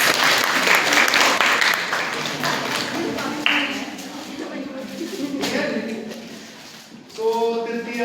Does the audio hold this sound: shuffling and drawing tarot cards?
no